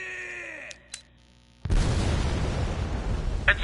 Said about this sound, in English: how the hell did you three survive with an explosion that freaking close?